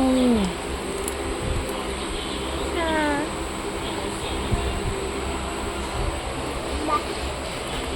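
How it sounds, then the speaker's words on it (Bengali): Steady rumbling ride noise inside the Shiromani Express out of Kharagpur, with a broad continuous roar and a few brief squealing tones near the start and middle. "আমরা খড়গপুর থেকে ট্রেন ধরেছি শিরোমণি এক্সপ্রেস সেটা থেকেই যাচ্ছি"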